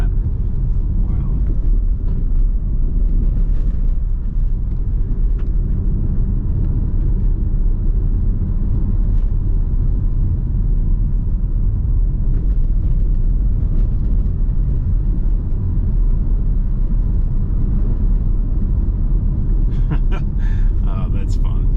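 A Tesla Model Y being driven hard through a corner, a steady loud low rumble of road and motion noise running throughout with little change, with faint brief sounds near the end.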